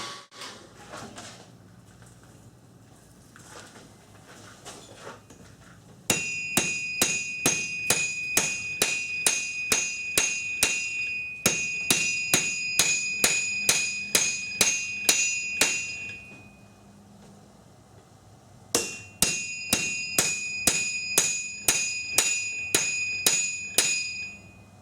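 Hammer blows forging a weld on a knife made from a lawnmower blade, a rapid series of loud, ringing metallic strikes in three bursts with short pauses, preceded by quieter shop noise.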